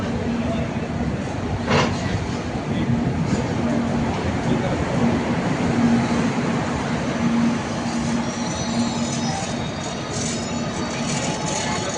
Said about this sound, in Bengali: ট্রেনে উঠেছি